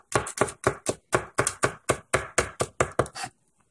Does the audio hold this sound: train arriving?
no